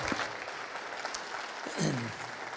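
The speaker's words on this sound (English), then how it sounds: "Please give a warm round of applause to Dr. Rick Scarborough." Warm audience applause greets a pastor coming on stage, an even wash of many clapping hands with a brief voice rising over it near the end.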